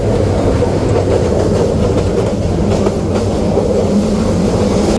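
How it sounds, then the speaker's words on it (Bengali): A passenger train pulls into Sylhet station with a loud, steady rumble of wheels and rolling stock, plus a faint clickety-clack, heard close by with no voices over it. "এই হচ্ছে আমাদের ট্রেন, সিলেট স্টেশনে আমরা নামলাম।"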